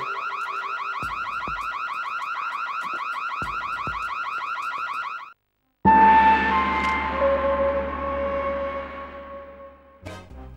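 A death sound in The Getaway on PS2 opens with a rapid, repeating pulsing tone and low thuds, stops briefly, then gives way to a loud, sustained dramatic chord that slowly fades.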